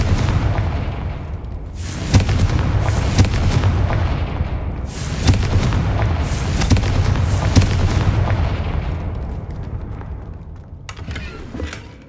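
Confringo blasting spells explode in the video game Hogwarts Legacy, landing as several loud, booming blasts spread across a continuous, rumbling battle soundscape.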